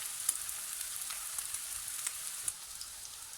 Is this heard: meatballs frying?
yes